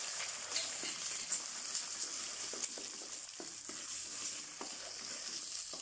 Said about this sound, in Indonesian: Lepas tu masukkan telur ya. Bagi telur ni masak betul-betul ya.